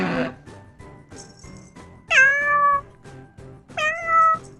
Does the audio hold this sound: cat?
yes